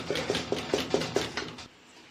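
A spoon stirs bulgur with zucchini in olive oil in a pot, making about six evenly spaced scraping clicks close by before the stirring stops and it goes quiet.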